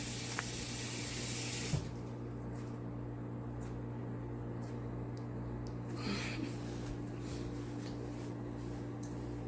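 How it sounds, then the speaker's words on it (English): Water runs from a kitchen sink tap during handwashing, a steady close hiss that starts loud, then settles into a softer continuous flow with light splashing. "Just wash your hands."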